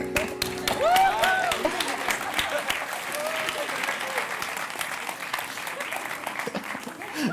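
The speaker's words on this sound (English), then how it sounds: "Please, huge applause to this team." Sustained, dense applause from a gala audience at the European Youth Award 2014 honoring a winning team, loud and steady throughout with a few brief tonal whoops near the start.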